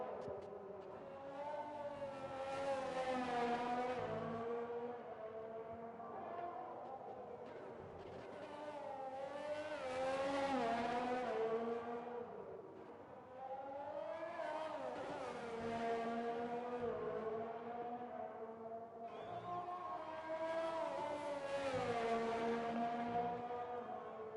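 A McLaren Formula 1 car in the F1 2020 racing game laps the Hungary circuit, its high engine note climbing and falling through four long sweeps of acceleration and gear changes, loud and steady with no voices.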